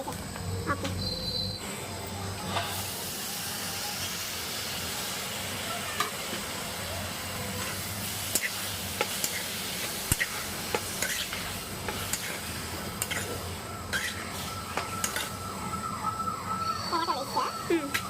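Tomatoes frying in a pan with onion and salted dried fish give off a steady, fairly quiet sizzle with occasional stirring scrapes, while someone talks over it throughout.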